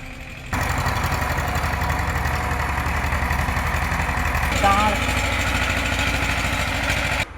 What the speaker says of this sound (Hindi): ट्रैक्टर अपना स्टार्ट हो चुका है।